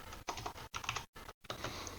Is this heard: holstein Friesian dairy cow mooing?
no